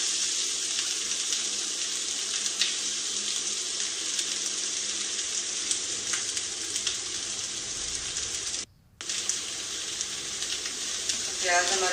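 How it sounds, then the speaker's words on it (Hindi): Onions fry in a pan for masala beef, giving a steady close sizzle that cuts out briefly near the end before resuming with some stirring noise. "प्याज हमारे फ्राई हो चुके हैं।"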